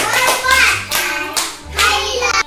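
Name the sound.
children clapping hands in a classroom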